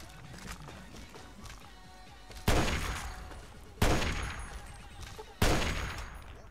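Three loud, sharp gunshot blasts ring out about a second and a half apart, each with a decaying tail, over a busy Fallout 3 game soundscape of clatter and effects.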